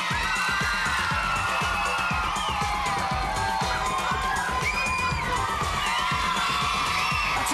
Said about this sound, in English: Nice big round of applause for Sleeping Beauty Bruno